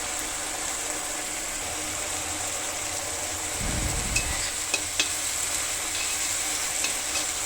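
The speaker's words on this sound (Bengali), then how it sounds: "চিংড়ি মাছটা ভেজে নেবো, এটাকে নুন হলুদ নিয়েছি দিয়ে ভাজতে বসিয়ে দিয়েছি" Shrimp coated in salt and turmeric fry in oil with a continuous close sizzle, broken by a short stirring scrape midway and a few light clinks and taps toward the end; nobody speaks.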